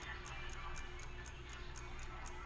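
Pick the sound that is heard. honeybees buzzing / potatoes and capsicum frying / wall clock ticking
wall clock ticking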